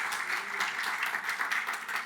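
Short burst of applause from a church congregation, dense even clapping at moderate distance with no talk over it.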